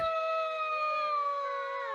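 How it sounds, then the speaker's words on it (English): A single wolf howl, one long, smooth, steady tone that slowly sags in pitch, clear and alone without any talking. "Here's what a regular wolf would sound like."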